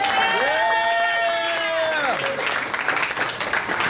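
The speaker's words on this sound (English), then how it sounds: "Let's clap real loud for that." A comedy festival audience breaks into loud, sustained clapping and cheering that fills the room, while a voice sings or calls out over it for the first couple of seconds.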